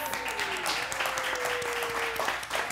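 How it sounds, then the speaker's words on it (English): In-studio audience of a live online talk show applauding, a dense continuous patter of many hands with a sustained tone and a few voices mixed in. "Let's applaud them."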